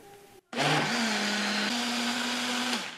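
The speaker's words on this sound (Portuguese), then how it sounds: "Aí coloca para liquidificar só mais um pouquinho, só para o fermento misturar." A kitchen blender whirs loudly for a few seconds after a brief pause, mixing savory pie batter with baking powder, a steady high motor whine with a slight pitch shift partway through.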